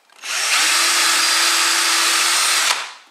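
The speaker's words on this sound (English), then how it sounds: "Drill my hole." A power drill with a 10mm bit whirs loudly at close range, boring steadily into plasterboard for about two seconds before winding down.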